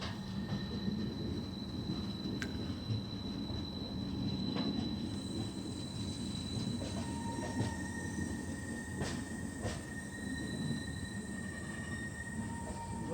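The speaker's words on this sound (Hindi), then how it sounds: "यहाँ पे हमारी ट्रेन अब बनारस की तरफ मुड़ चुकी है" Kashi Vishwanath Express rolling on rails near Varanasi, a steady continuous rumble of wheels and carriage with faint squeals and brief clicks throughout, no talk.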